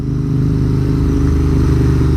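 Triumph Speed Twin or Royal Enfield Interceptor 650 motorcycle fitted with an aftermarket exhaust, its engine running loud and steady at close range with a deep, throbbing rumble throughout, no talk over it.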